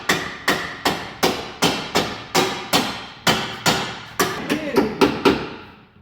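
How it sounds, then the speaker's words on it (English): About fourteen sharp metallic blows from a tool gun used as a hammer on a Volvo bolt, steady rhythm, close and loud, speeding up slightly near the end. "Did you just use your gun as a hammer?"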